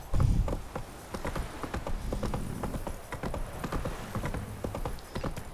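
A horse gallops in the video game The Witcher 3, its hooves making a fast, rhythmic clip-clop that stays fairly close and continues steadily.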